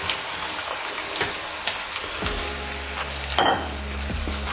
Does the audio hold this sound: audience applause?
no